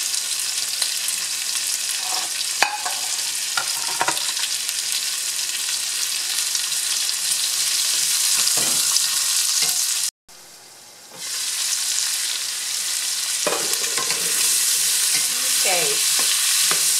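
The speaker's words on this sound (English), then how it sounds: "I just want to give the onion a chance to get translucent and get that brown bits at the bottom." Vidalia onion sautéing in a pan, a loud close sizzle running throughout with occasional stirring scrapes and a brief drop-out midway, no voices.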